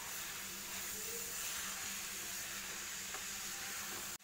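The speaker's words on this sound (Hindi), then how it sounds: "यहाँ पर मैंने कीस डाल दिया है और इसे चलाएंगे, मिक्स करेंगे इसको घी में।" Grated beetroot sizzles and fries in hot ghee over a high gas flame as it is stirred. A continuous close hiss carries faint scraping from the stirring, and it cuts off abruptly at the end.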